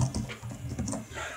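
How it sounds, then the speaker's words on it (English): Typing on a computer keyboard, a quick irregular patter of light clicking keystrokes, fairly faint and close, with no speech. "Super typing."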